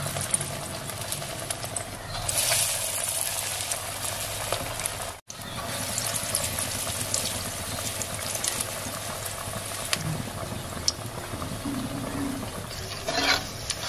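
Keerai vada, spinach and lentil fritters, fry in hot oil with a steady, soft bubbling hiss that stays quiet and even throughout, with no voices.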